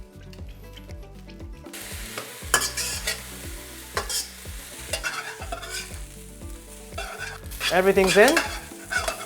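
Umami fried rice with oyster sauce and fish sauce is stir-fried in a hot pan, with loud close sizzling and repeated scraping stirs, a brief spoken remark near the start, and a burst of intense sizzle near the end.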